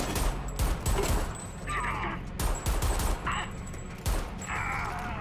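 Gunfire in Homefront: The Revolution, several close, loud bursts of shots in quick groups separated by short pauses over steady game ambience.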